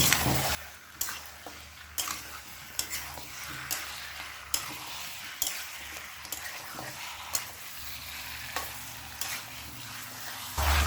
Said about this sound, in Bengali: এবার গ্যাসটাকে হাই ফ্লেমে রেখে চার থেকে পাঁচ মিনিট চিকেনটা কষিয়ে নেব